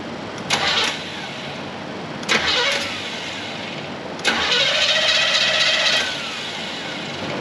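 A wrecker truck engine is cranked over several times: two short starter bursts that catch briefly, then a third crank fires into a loud, close running engine that settles before fading slightly.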